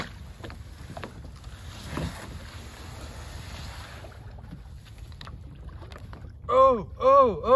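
Wind buffets the microphone while water sloshes around a small boat being pushed into a pond; a voice calls out loudly near the end.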